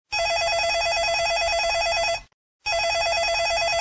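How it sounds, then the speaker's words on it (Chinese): A telephone rings with a steady electronic warble during a live call-in segment of a television shopping show, sounding two bursts separated by a brief silent gap, loud and alone without talk. "那我们现在来接我们第一通电话。"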